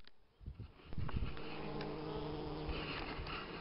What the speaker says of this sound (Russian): Вот видно, ловушку пчела подзывает остальных уже.